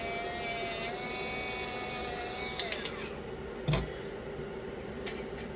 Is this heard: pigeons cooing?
no